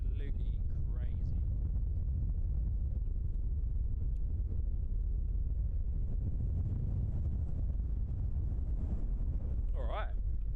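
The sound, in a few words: strong wind blowing at an airport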